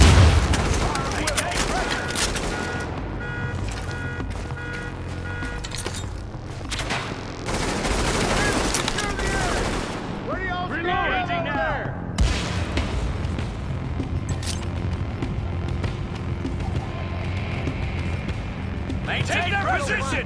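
Gunfire from the video game Tom Clancy's The Division, with dense rattling bursts, booms and scattered shots over about twenty seconds, with game voices shouting in between.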